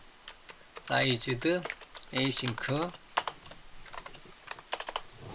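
Rapid computer keyboard typing clicks through the clip, with a person talking in Korean over the first half and scattered keystrokes continuing after.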